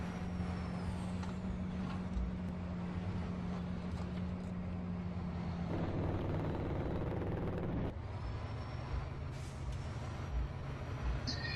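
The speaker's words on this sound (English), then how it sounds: "I thought you might like to see me drive the big Kenwood through town" A big Kenwood truck driving through town in Farming Simulator 15 sends a constant heavy diesel engine drone with a shift in pitch partway through and a brief hiss.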